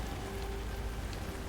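Rain falls at night at Cauldron Lake in the game Alan Wake 2, a soft, steady patter on surfaces among trees and foliage, even and quiet with no talking.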